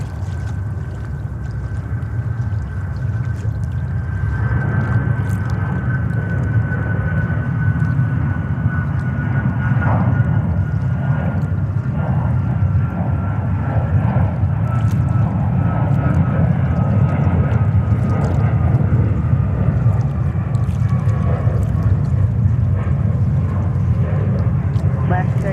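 A Boeing 737 jet airliner departs JFK airport with a loud, steady engine roar that holds for the whole stretch, and faint voices murmur underneath.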